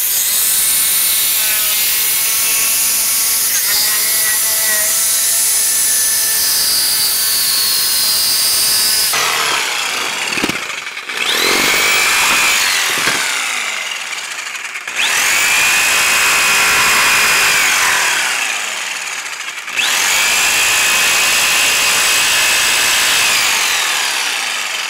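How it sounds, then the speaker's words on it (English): A jigsaw cuts a wooden shelf bracket for window book shelves with a loud, steady, close buzzing rasp that runs for long stretches, broken by a few short stops and restarts. "but I don't have a bandsaw, so I'm going to use the jigsaw"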